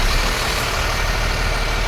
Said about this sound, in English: Start the chassis engine.